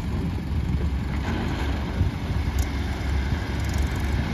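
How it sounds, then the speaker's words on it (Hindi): A heavy diesel tractor engine being push-started rumbles steadily up close, a continuous low throbbing drone with no clear pauses. "तो धक्का स्टार्ट हो रहा भाइयों ट्रैक्टर।"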